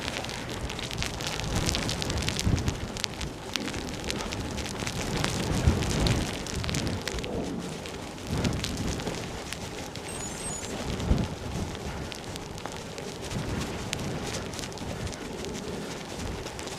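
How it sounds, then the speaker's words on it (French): Heavy rain mixed with hail pours down during a gravel bike ride beside the Seine, a dense, continuous hiss and patter of drops and pellets striking close by throughout. "La moitié de la pluie, moitié de la grêle."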